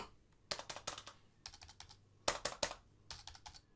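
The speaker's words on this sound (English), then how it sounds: "I can still hear those keys a little bit" Keys clacking on a Logitech K740 illuminated wired keyboard, typed in short quick clusters of soft taps with brief pauses between bursts, fairly quiet and close.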